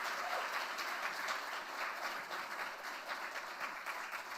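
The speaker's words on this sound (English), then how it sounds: "Can we have a huge round of applause for ARPAN" Audience applause at an event honoring the ARPAN organization, a dense, even wash of clapping held at a steady, moderate distance for several seconds.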